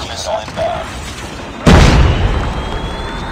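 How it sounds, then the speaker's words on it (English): A Predator missile strikes in the Call of Duty video game, a sudden heavy boom erupting after brief voice callouts and rumbling away over the next second and a half. "Predator missile inbound."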